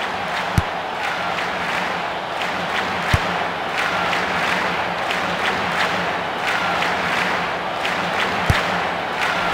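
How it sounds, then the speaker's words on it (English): Stadium crowd in the PlayStation 2 soccer game Pro Evolution Soccer (Winning Eleven 5), Brazil versus Switzerland: a loud, continuous roar of massed chanting and cheering, broken by a few sharp thumps. "The crowd starting to lose interest in the game."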